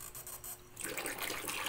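Tap water starts gushing into a basin for a three-month-old puppy's first bath, a sudden bright splashing rush that follows a quieter hiss and continues steadily at close range.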